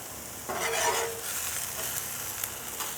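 Mushrooms brown in a frying pan with a loud, close, continuous sizzle and a scrape of stirring as they are moved around.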